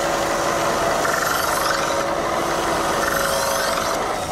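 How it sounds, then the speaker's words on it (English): Harbor Freight belt sander with an aftermarket belt kit sharpening a fillet knife, a continuous abrasive whine and grinding rasp with faint shifts as the blade is drawn across in passes, loud and close, no talking. "all this is just a Harbor Freight belt sander with the belt kit I got off of Amazon"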